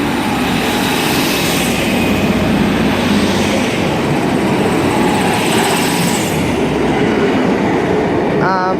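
A Class 156 diesel train passing on the Styal line near Manchester Airport, a loud close rumble and rattle of wheels and carriages that sweeps steadily by and fades slightly at the end.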